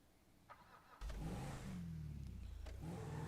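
A car engine in the FiveM driving game kicks in suddenly and holds a steady, revving mid-pitched drone as the vehicle drives along, loud and alone after a quiet start.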